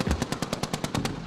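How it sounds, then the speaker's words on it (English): Rapid automatic gunfire aimed at a plane in Gaza, about ten evenly spaced sharp shots in a quick burst, moderately distant. "They're firing at it and people are fleeing everywhere."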